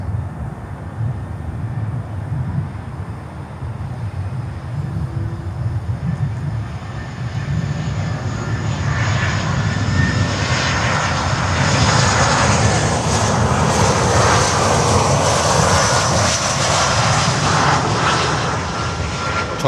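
Prime Air cargo jet landing heading north at Miami airport, a steady broadband jet-engine roar that swells gradually and stays loud and sustained throughout, with no talking.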